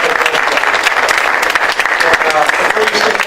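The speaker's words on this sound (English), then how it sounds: "So, let's give Mike a round of applause." An audience claps after a speaker at what looks like a civic board meeting, producing loud, dense, continuous applause that rises and falls slightly in strength.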